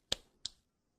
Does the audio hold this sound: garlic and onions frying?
no